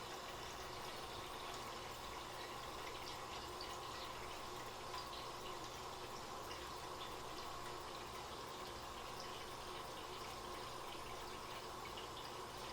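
Cold water from a refrigerator dispenser running into a container for cold brew coffee, a faint, steady continuous stream with no change in level, heard alone.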